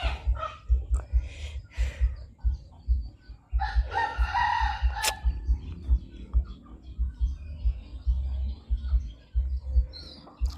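Chickens cluck and cackle close by, with a rooster crowing partway through and a dog barking at times against a low background rumble.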